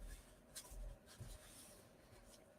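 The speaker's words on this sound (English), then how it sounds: "We could burnish those score lines like this with our bone folder" A bone folder burnishing score lines on folded cardstock for a fun fold card: a few soft, dry rubbing strokes close by, fairly quiet, with a short sharp knock at the very end.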